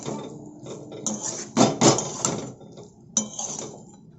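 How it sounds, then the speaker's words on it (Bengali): Potatoes being stirred and fried in a pan for a Bengali potol chingri dish, giving a series of close metallic scrapes and clinks of a utensil against the pan, with a couple of louder knocks over a low background. "আলুটা আবারও একটু ভালোভাবে নেড়েচেড়ে কষে নেব।"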